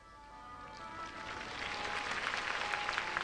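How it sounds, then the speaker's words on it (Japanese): Applause builds gradually from a figure skating arena crowd during a 1990 pairs short program, faint and distant at first, then swelling into a steady patter. "場内から拍手です"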